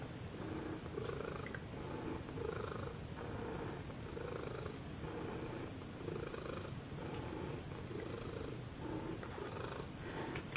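Cat purring while lying on a lap, a steady rhythmic close-up rumble pulsing with each breath for the whole stretch, with no voices.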